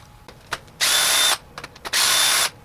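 Two sustained bursts of an impact or power tool spinning off the rocker arm bolts with an 8mm socket on a 7.3L PowerStroke diesel engine, close and loud, separated by brief clicks and handling noises.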